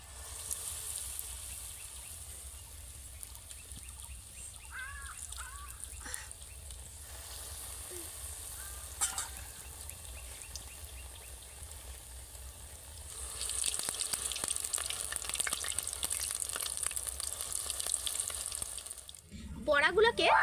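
Lentil dahi bara fritters frying gently over low heat, giving a soft, steady sizzle that swells louder and brighter toward the end, with some clinks and stirring along the way.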